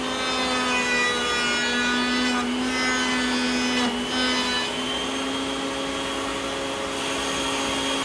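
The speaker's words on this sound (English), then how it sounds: "here we're making the frame on the CNC machine. I decided to do it out of MDF." CNC machine cutting an MDF picture frame, a continuous loud whining drone with a steady tonal hum and a faint grinding texture, close and unbroken.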